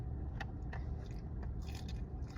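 Crunchy fried food from Raising Cane's is bitten and chewed close to the ear, producing several sharp crunches and crackles over a low background hum, with no talking.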